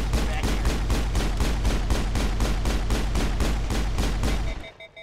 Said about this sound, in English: Fire until you overheat.